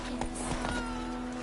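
Roach the horse's hooves clip-clop at a steady walking pace in a Witcher game, a short run of close hoofbeats over a low steady hum, no talk.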